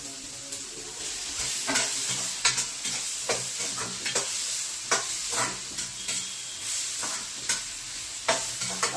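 Tomatoes fry in a hot pan, a constant sizzle punctuated by repeated sharp clinks and scrapes of a spoon stirring against the metal at an irregular rhythm, heard up close.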